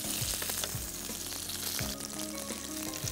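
Small sambar onions frying in oil with cumin in a pan, a continuous close sizzle and crackle with occasional stirring scrapes and pops, no voices.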